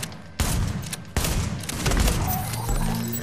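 Shotgun fired in The Division's Dark Zone, with two sharp, loud blasts in quick succession followed by rattling, clattering game noise and no talking.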